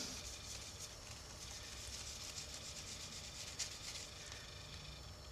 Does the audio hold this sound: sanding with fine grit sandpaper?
yes